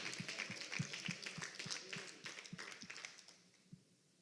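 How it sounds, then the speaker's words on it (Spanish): A church congregation claps along in steady, rhythmic beats during worship, the hand claps fairly close over a dense background of voices and music before the room quiets near the end. "Dele fuerte el aplauso al Señor, porque es para adorarlo a Él"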